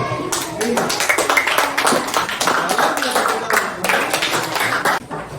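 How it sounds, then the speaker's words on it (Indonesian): A classroom full of students claps for a presenting group, a dense, steady patter of many hands lasting several seconds before trailing off, with voices mixed in. "Tepuk tangan untuk kelompok 5."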